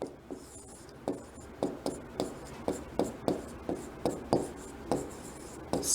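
Pen strokes scratch across paper in short rhythmic bursts, roughly a dozen close strokes with soft rubbing between them, while someone writes out notes on why household electrical appliances are wired in parallel; no talk.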